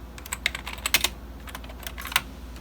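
Someone types on a computer keyboard used with a 2006 iMac whose enter key sticks, producing quick, irregular clacks up close over a low steady hum.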